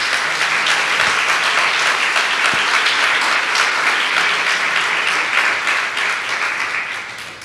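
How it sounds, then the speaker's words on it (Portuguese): A church congregation applauding together during a Portuguese-language worship service, loud sustained clapping that fills the room evenly and tapers off slightly at the end, with no voices over it. "Então vamos aplaudir Jesus por isso."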